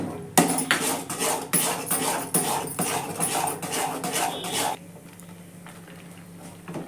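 Spoon stirring cashew and almond mysore pak mixture with ghee in a pan over low heat, steady scraping and clinking strokes up close for several seconds, then quieter simmering.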